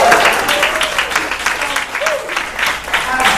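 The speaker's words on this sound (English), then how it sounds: "So let's give a big round of applause." Audience at the 2015 Love Fest event in Walnut Creek claps in a loud, sustained round of applause for a speaker, with scattered cheers and voices mixed into the clapping.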